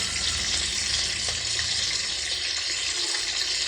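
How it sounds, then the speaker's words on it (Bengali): Fish frying with bori lentil dumplings and potatoes in hot oil, giving a loud, dense, continuous sizzle with a watery crackle throughout. "বড়ি দিয়ে, আলু দিয়ে মাছ এখানে ভাজতে শুরু করে দিয়েছি।"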